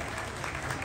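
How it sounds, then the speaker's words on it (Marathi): A crowd at a live stage show gives a brief, thick burst of continuous applause for the musicians, heard at moderate volume. "एकदा जोरात टाळ्या त्यांच्यासाठी पण वाजल्या पाहिजे"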